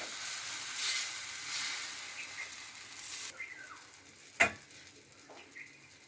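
Ripe mango batter frying in a pan over low gas gives a soft, steady sizzle with faint stirring and light clatter, one sharp tap of a utensil standing out partway through; no one speaks.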